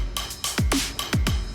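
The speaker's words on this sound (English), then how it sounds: "Here I used the drum loop that sounds like this" Drum loop for the build-up of a remake: about five punchy kicks with deep falling pitch, plus crisp broadband hits, in a quick uneven rhythm, loud and alone.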